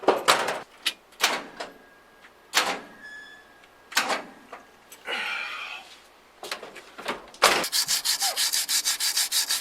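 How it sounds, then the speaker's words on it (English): Repeated strokes of sandpaper scraping a layer of rust off metal in short bursts, then a rapid rhythmic run of quick back-and-forth sanding strokes near the end. "what I'm sanding right now, I'm just pretty much just taking off the layer of rust"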